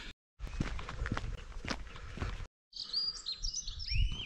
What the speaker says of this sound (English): This one's been taken over by the birds.